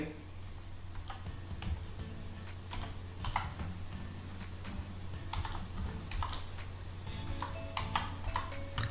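Password being typed on a computer keyboard, a quiet irregular run of light key clicks and taps over a low steady hum, close but soft.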